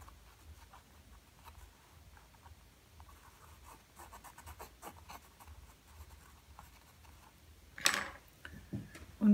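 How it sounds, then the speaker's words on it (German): Chalk scratches and taps across a painting surface while a picture is sketched out during an acrylic painting session, a soft, irregular run of close scraping strokes with a few louder handling noises near the end. "Ich ziehe mir das mit der Kreide drauf. Also zeichne das."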